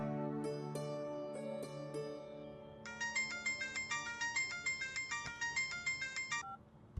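A phone call rings out in a dramatic film scene: a melodic ringtone plays first, then a brighter repeating electronic tune pulses steadily for several seconds, loud and close. No one speaks over it.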